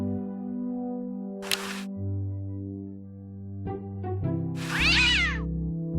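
A cartoon cat meows in the Day of the Tentacle adventure game, two clear, close meows separated by a few seconds over steady background music.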